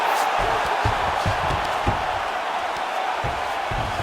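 Arena crowd at a UFC flyweight title fight, a dense, sustained roar of cheering that stays loud throughout with scattered shouts and thumps, and commentators talking over it.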